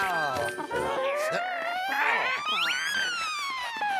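A cartoon puppy in a Garfield episode whimpers and whines in high, wavering, rising tones, mixed with other voices and soundtrack sounds.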